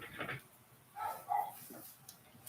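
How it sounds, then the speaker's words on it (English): Faint dog barks sound a couple of times from a distance, weak and muffled in a quiet room. "So the dog barks."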